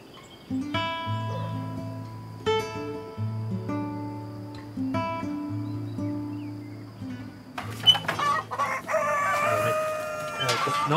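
Chickens and roosters on a mountain farm cluck steadily while a rooster crows loudly and close by, with further crowing and bird calls toward the end; no talk is heard.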